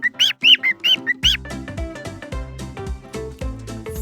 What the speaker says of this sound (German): Hier seht ihr einen Vogel.